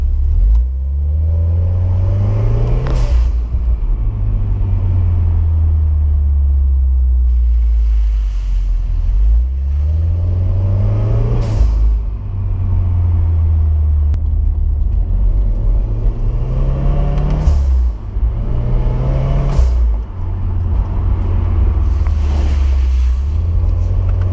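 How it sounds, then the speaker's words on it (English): A 2015-2017 Subaru WRX with a Go Fast Bitz blow-off valve pulls through the gears, its low engine drone climbing and dropping about five times, each drop marked by a sharp hissing release, all under heavy wind noise. "giving you guys few sound clips of what the blow-off valve sounds like"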